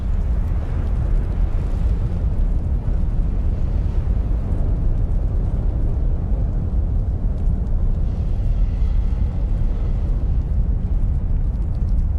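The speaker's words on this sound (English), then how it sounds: "As the lava bombs pound the ground, they create streaks and veils of hot ash." Krakatau volcano erupting, a continuous loud, deep roaring rumble with steady turbulent noise and no clear separate impacts from lava bombs striking the ground.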